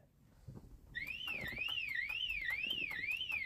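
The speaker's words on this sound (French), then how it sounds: "si je bouge à l'intérieur de la voiture, eh ben ça va faire gueuler l'alarme" A Peugeot 306 S16's accessory car alarm, triggered by movement inside the car, wails with a rising and falling siren tone, starting abruptly after faint shuffling and continuing steadily, fairly quiet and distant.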